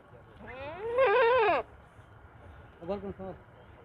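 Large, heavy Rajanpuri goats bleat on a goat farm, a long wavering cry followed after a pause by a shorter broken series of bleats, close and fairly loud over low background rumble.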